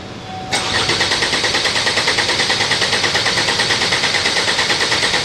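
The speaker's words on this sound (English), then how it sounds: "We're about ready to go, so go ahead and crank it and we'll see what happens." An engine cranks on its starter with fuel injection disabled, so it never fires. The close, loud, rapid rhythmic chugging repeats evenly for about five seconds after a click at the start.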